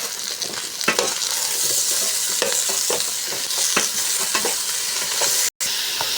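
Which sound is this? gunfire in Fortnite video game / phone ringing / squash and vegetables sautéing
squash and vegetables sautéing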